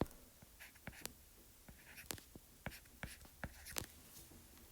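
A pen or pencil draws a Lewis structure by hand on paper, making a series of quiet, close scratchy strokes and taps at an irregular rhythm, with no talk over them.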